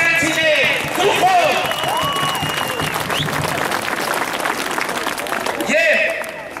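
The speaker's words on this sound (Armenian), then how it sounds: "և մեր ավանդական ծափերը" Dense crowd applause at a 2018 political rally in Sisian, Armenia, for a politician, loud and sustained with cheering voices and a speaker's voice mixed in, swelling again near the end.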